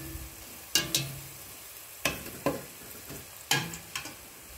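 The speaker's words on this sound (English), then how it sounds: "Let the masala fry a little bit." Masala frying in a pan for a tripe curry, faint sizzling broken by several sharp clanks and scrapes of stirring in an irregular rhythm, no voices.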